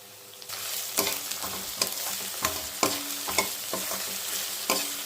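Turmeric powder and tomato roast in a hot pan while a spoon stirs them, giving a steady close sizzle broken by repeated scraping strokes and clinks against the pan, with no talking.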